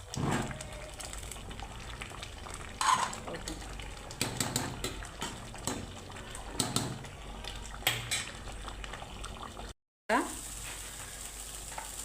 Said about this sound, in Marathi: मस्त हलवून घ्यायची गरगरीत